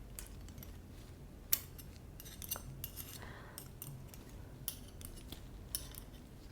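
Scissors snip in a quiet ASMR doll-transformation roleplay: sparse, close metallic clicks and small snips with long hushed gaps, one sharper click standing out.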